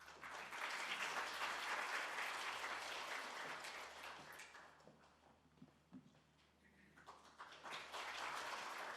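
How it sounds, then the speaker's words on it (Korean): An audience at a National Assembly academic conference on constitutional amendment, marking the 78th Constitution Day, breaks into broad, sustained applause that thins out midway, then returns briefly before fading under footsteps. "큰 박수로 모시겠습니다."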